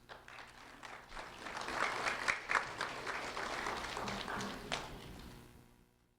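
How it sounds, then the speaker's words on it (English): A crowd applauding steadily for several seconds, building quickly and fading out at the end, with a few sharper claps standing out. "a round of applause for Brynn Burke, please."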